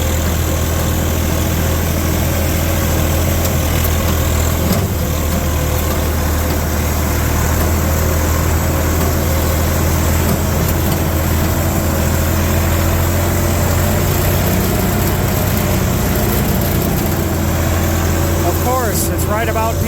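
A tractor engine idles steadily at a low, heavy drone, its vibration rattling the canopy roof, loud and continuous throughout with no break.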